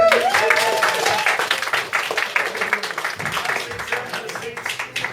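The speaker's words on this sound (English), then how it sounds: "Round of applause for this gentleman" A live audience claps for a gentleman being brought up at a gig, with the applause strongest at first and then thinning out, while voices talk and call out over it.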